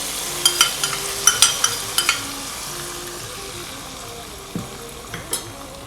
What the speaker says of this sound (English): Once you have added the coconut bits and the cashew nuts, give it a good stir